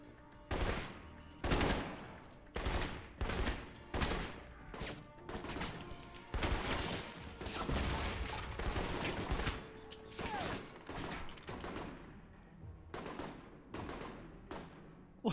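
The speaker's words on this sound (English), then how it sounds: "Why are they shooting each other?" Gunfire in the video game Alpha Protocol comes in repeated loud bursts, some sustained like automatic fire and others as separate sharp shots, with short quieter gaps between volleys.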